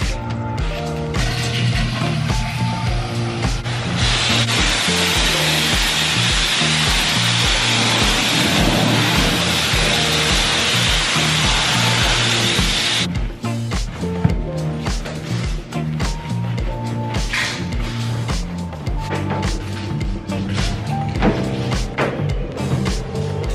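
An automatic car wash runs around a car: loud continuous machinery whirr and rattling, with a long burst of hissing water spray midway, then steady mechanical churning and knocking to the end.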